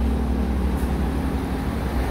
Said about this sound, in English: big truck pulling out